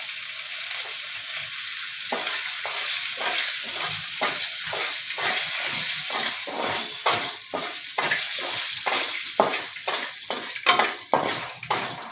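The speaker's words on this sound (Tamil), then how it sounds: "உளுந்து எல்லாமே ஃப்ரை ஆகணும் ஃப்ரெண்ட்ஸ் கொஞ்சம் கருவேப்பிலை போட்டுக்கோங்க" Urad dal and curry leaves fry in a hot pan with a steady sizzle, while a spoon stirs and scrapes in regular strokes that speed up toward the end, close and alone.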